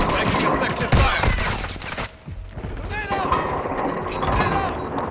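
Call of Duty: Modern Warfare II gunfire: dense bursts of automatic shots and booming impacts fill the mix throughout, with a brief lull near the two-second mark before the firing resumes under a busy battle din.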